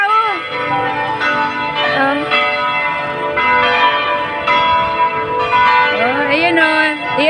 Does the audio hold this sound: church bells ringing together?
yes